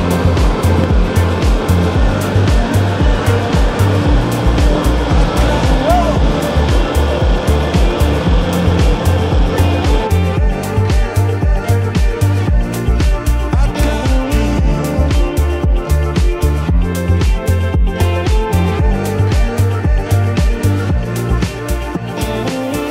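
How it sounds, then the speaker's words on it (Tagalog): Heavy afternoon traffic on F. Bristol Street in Cebu's South Road Properties, a dense, continuous roar of engines and tires with passing vehicles close by, loud and unbroken throughout, with no talking. "Grabe ka traffic diri sa F. Bristol Street."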